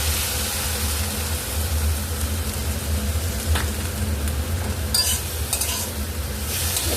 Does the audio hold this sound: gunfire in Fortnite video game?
no